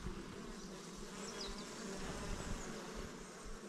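Honey bees buzz densely around open beehive frames during a hive inspection, a steady, close swarm hum running without pause, with no talking.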